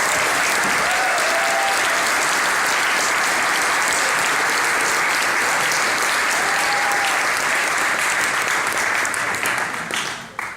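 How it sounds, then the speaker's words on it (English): A crowd at the ZDay 2015 event applauds steadily and evenly for over ten seconds, a dense wash of clapping that fades out at the very end. "Give a big applause, Peter Joseph."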